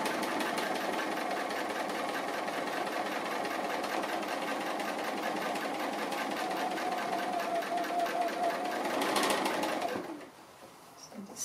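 A sewing machine stitches an appliqué bunny in a continuous, even whirring run that holds steady and close, then stops abruptly near the end, leaving quiet room noise.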